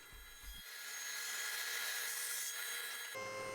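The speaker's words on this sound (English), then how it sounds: "I could resaw it here at the table saw" Table saw resawing a thick 8/4 walnut board into thinner stock, a steady loud blade-cutting whine that rises and holds for about two and a half seconds before the cut ends and the saw runs on.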